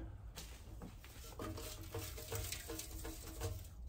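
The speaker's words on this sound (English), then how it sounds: "you can hear all the rust bits that are already in it." Small loose rust flakes patter and rattle inside a hollow, very rusty metal tank in a quick, irregular series of faint clinks.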